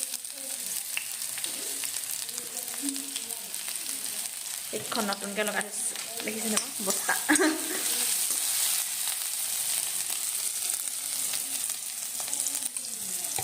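Onions fry in oil in a pan, giving a steady, close sizzle throughout, with brief stirring clatter in the middle and someone talking over it.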